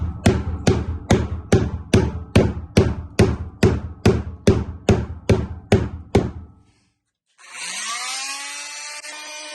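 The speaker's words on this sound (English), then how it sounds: "what I'm doing is just driving a wood bung in it to find a center point" About fourteen sharp, evenly spaced hammer blows drive a wooden bung into a corroded screw hole in a Sailmaster 22 sailboat interior, loud and close, followed after a brief pause by a steady rushing noise.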